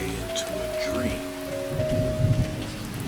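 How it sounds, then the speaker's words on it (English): Gentle, steady rain falls on a surface outdoors, a soft continuous patter with a faint tonal hum running beneath it and no voices. "Outside, the rain grows more consistent. A gentle rhythm forms, not loud, not urgent, just there."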